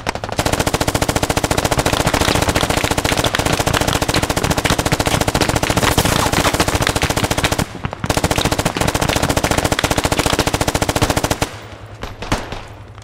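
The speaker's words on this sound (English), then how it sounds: "suppressing fire right there" Sustained automatic machine gun fire in the military shooter game Squad, a loud, dense stream of rapid shots that runs almost without a break. There is one brief gap, and the bursts then taper off near the end.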